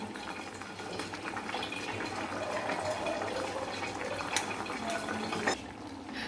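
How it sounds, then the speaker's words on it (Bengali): Bubbling fish curry with boal fish simmers in a pan, a steady soft watery burble with small pops running throughout, close and low, ending with a brief clatter. "এই মাছগুলো দিয়ে আর 2-1 মিনিটের মতন একটু ফুটিয়ে নেবে, তাহলেই হয়ে যাবে।"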